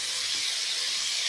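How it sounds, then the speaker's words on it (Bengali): Potatoes frying in hot oil, a steady close sizzling hiss with no breaks. "আলুটা ভেজে নিচ্ছি।"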